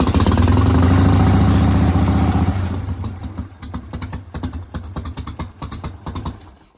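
A 1988 Harley-Davidson Softail motorcycle engine cranks and runs loudly with a deep, throbbing rumble for a couple of seconds, then cuts out, leaving irregular ticking and clicking mechanical noises close by.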